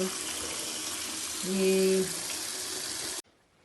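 Water runs steadily from a tap into a tub being filled for a small child, a continuous rushing stream that swells briefly in the middle and then stops suddenly.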